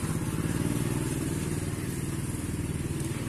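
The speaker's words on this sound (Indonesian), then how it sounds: "maaf berisik karena di sini jalan" A motorcycle engine drones by on a roadside street beside a garden of vinca plants, loud and close with a steady, slightly rattling mid-pitched rumble that holds throughout.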